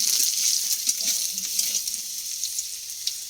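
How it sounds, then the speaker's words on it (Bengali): Potatoes fry in a pan, a steady bright sizzle with faint stirring and scraping throughout, close and unbroken. "আলু ভাজা বসিয়ে দিয়েই গেছিলাম"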